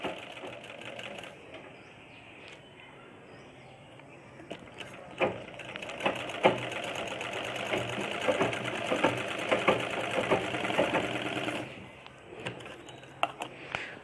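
A sewing machine stitches the sleeve of a churidar top, running in a steady close whir from about four seconds to near twelve seconds, with quieter handling clicks and thumps before and after.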